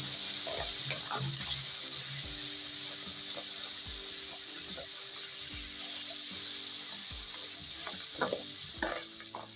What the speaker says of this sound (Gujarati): હવે આ ડુંગળીને આપણે વઘારની અંદર સરસ રીતના મિક્સ કરી લઈશું।